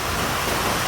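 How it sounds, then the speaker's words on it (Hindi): Heavy rain pouring down, a dense, loud, continuous wash of noise filling the short moment without any voices. "ये बहुत काफी तेज बारिश हो रही है।"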